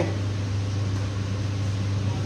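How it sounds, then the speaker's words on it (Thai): An electric fan runs with a steady, loud whirring hum and a constant low drone and airy noise, with no other sounds. "เสียงพัดลม"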